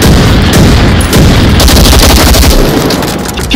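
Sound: gunfire in Onward VR video game

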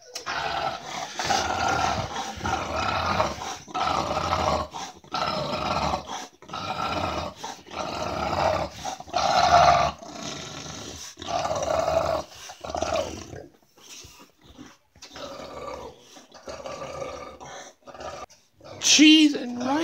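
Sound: dog growling while holding a caught duck

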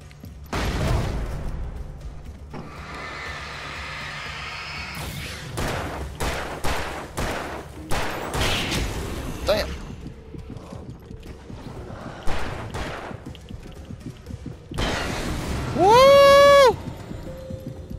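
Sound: flashbang and gunfire in Alan Wake video game

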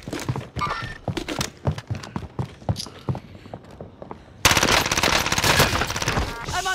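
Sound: gunfire in video game Call of Duty Modern Warfare

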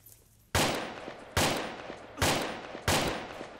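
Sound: gunfire in a video game

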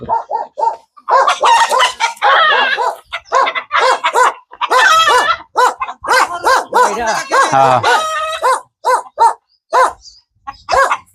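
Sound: dogs barking

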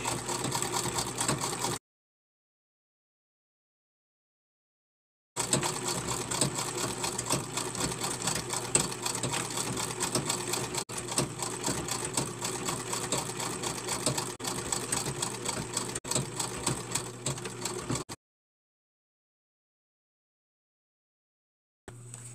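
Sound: antique treadle sewing machine stitching dice bags

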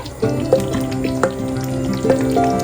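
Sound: yogurt-marinated chicken added to frying masala

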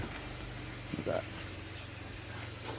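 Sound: crickets chirping in a foam nest

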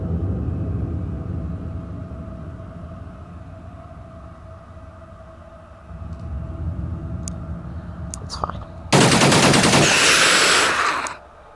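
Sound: heavy rifle fire in a video game (Alien Outpost)

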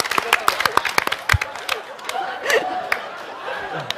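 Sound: studio audience clapping

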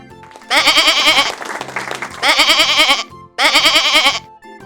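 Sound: goat bleating

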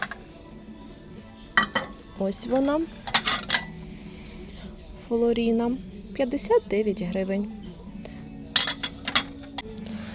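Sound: glass dessert plate and glassware clinking

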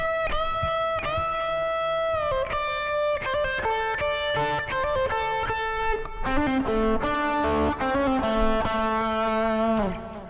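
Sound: electric guitar playing turnaround lick

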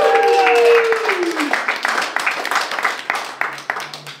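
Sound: audience clapping at a comedy show

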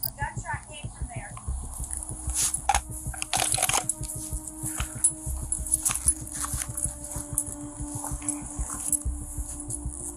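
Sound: dog barking

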